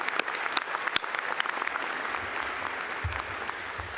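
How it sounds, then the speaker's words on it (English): A crowd at a veterinary medicine college commencement ceremony claps steadily, with a few sharp, close individual claps standing out over the broad, even applause. "One more round of applause."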